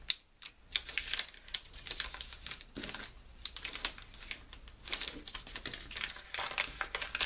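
Paper for a small handmade mini journal folded the short way to a center crease, heard as a close series of soft, crisp creasing taps and rustles with an irregular rhythm.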